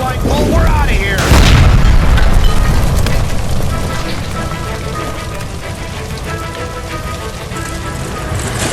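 A gas line blowing up by a stove in the video game L.A. Noire, a heavy deep boom followed by a long roaring, crackling rumble that stays loud as it fades into debris and fire noise.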